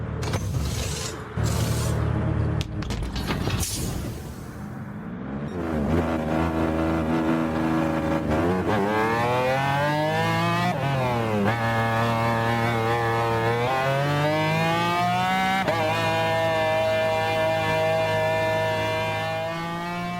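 McLaren F1 GTR race car in Gran Turismo Sport leaving the pits at Interlagos, its engine rising through gear after gear in loud, continuous revving sweeps with no talk over it.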